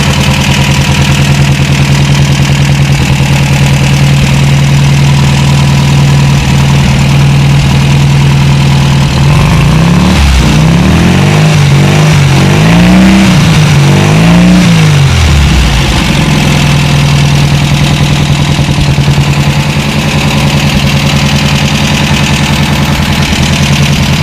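Rebuilt VW buggy engine idling as it warms up, loud and close with a steady, slightly fast air-cooled drone, a brief rev rising and falling midway, then settling back to a constant idle.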